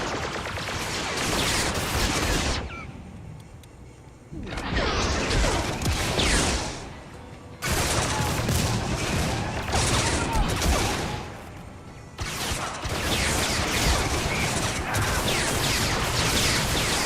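A turret in a Star Wars video game unleashes long, loud barrages of blaster fire, several sustained volleys separated by brief lulls, with whooshing bolts and mechanical clatter mixed in.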